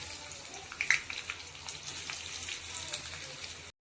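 Mango pieces sizzle and fry in a pan with mustard seeds, a steady close hiss with faint crackles and a brief clatter as they go in.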